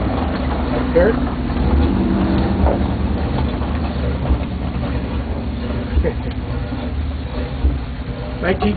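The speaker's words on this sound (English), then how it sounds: "I'll open this up and you hear the engine." A 1923 Keck Gonnerman steam tractor engine of 11 tons running close by, giving a continuous low rumbling chug with rhythmic pulses, while people talk over it.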